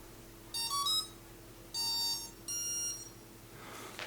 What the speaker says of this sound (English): So we're hearing some beeping.